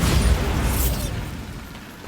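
Bombarda blasting spell going off in Hogwarts Legacy on Nintendo Switch: a loud booming explosion with a hissing burst that rolls on briefly, then fades into a dull, decaying rumble.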